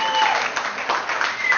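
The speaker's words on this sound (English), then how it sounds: "You should cheer at that part too." Audience cheering and applauding at a live event, a dense steady wash of claps and cheers for about a second and a half with a whistle-like tone on top.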